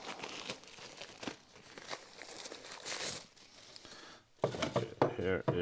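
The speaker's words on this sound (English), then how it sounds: "Let me get the plastic off of it." Protective plastic film is peeled and crinkled off a new Oak & Iron cordless tire inflator, making close, irregular rustling and crackling sounds. Someone speaks briefly near the end.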